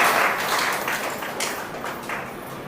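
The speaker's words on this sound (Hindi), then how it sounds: "एक बार जोर से ताली बजा के" An audience claps together at a Raksha Bandhan celebration, a steady wave of applause that starts strong and slowly thins toward the end.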